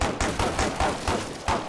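Rapid automatic gunfire in the shooter game Killing Floor 2, a string of punchy shots at an uneven rhythm, about eight bursts in under two seconds, loud and close with no talking.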